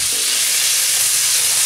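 Meat and vegetables fry in a hot pan, giving a loud, steady, close sizzle that hisses throughout.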